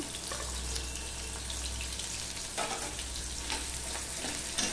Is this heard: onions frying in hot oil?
yes